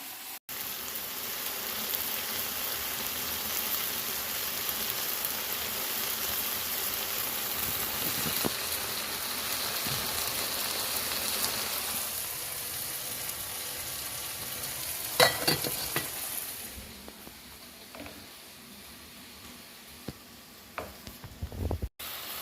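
Steak stir fry with herbs simmering in a pan, a soft steady sizzle and crackle like light rain, fairly quiet, with a couple of brief clatters near the end and a fade toward the close.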